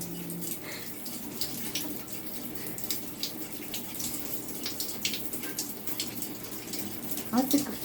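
Running water from a tap rinsing birds in a bird bath on a hot day, a steady soft splashing stream close by, with a faint voice and a brief chirp-like sound near the end.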